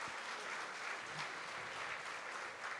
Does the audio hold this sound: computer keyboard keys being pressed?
no